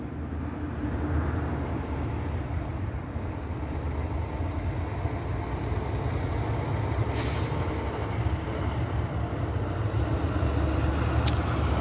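A large white truck idles or rolls nearby with a constant low rumbling drone, and a couple of short sharp hisses cut through, like air brakes releasing. No one speaks.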